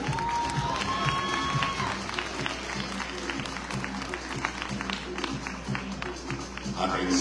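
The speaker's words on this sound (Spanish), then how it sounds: "Un aplauso para ellas, por favor." A crowd at a fitness figure competition applauds steadily with sustained clapping and some cheering, a dense wash of hands over a faint musical background.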